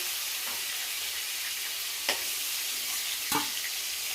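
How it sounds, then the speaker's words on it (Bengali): Crabs frying in hot oil and being stirred, a steady close sizzle throughout with a couple of brief scraping knocks from the stirring, no voices. "হালকা করে একটু নেড়ে চেড়ে ভেজে নিলেই হয়"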